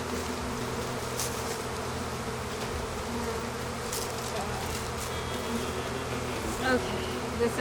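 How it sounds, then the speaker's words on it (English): Honey bees boil out of a beehive in a dense, continuous buzz close at hand, with individual insects droning past now and then. "Whoa, whoa, whoa, bees up on my shoes."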